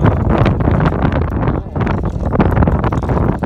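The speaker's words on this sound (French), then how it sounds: "il y a du vent là" Wind buffets a microphone outdoors, a loud, continuous rumbling roar that surges and dips throughout with no pause.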